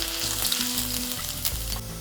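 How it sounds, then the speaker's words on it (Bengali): Julienned ginger and thin garlic slivers fry in hot ghee, giving a loud, close, continuous sizzle with light stirring scrapes and no talking. "ঘি গরম হয়ে যাওয়ার পর এখানে দিয়ে দিচ্ছি জুলিয়ান করে কাটা আদা, লম্বা সরু করে কাটা রসুনের কুচি"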